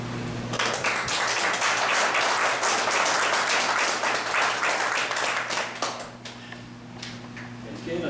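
Audience at the Muleshoe Heritage Foundation's annual membership meeting breaks into applause, a loud, dense crowd clapping that swells quickly, holds for several seconds, then thins out over a low steady hum.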